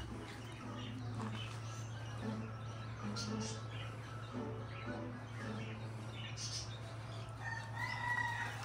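A rooster crows faintly at a distance, with short clucking calls over a low steady hum in the background.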